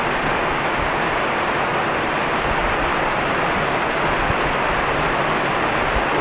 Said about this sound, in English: good rain. I wish it would do this for about an hour or 2.